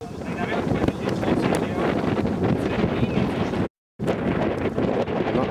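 Strong wind buffets the microphone outdoors before a sailing competition, a loud, dense roar that continues throughout apart from a brief dropout near the end.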